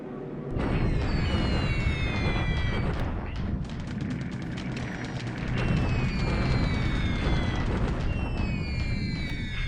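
Waves of bomb blasts from a WWII strategy game air raid, with dense, continuous rumbling booms layered under whistling descending tones, loud throughout nearly ten seconds.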